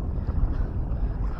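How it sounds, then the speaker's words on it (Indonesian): Strong sea wind buffets a kayak on open water off Brunei, a brief low, gusty rumble pressing against the microphone with no talking. "Tiba-tiba angin laut kuat"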